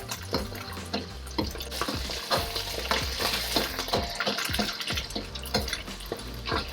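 Eggs frying for Thai salt fish fried rice, stirred and scraped in a hot pan with a steady close sizzle and repeated clinks and taps of a utensil against metal, no talking.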